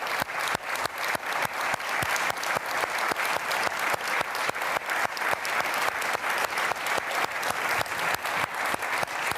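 Sustained applause from a conference audience at the Munich Security Conference, a dense steady rattle of many hands clapping together for several seconds, loud and continuous without any voices over it.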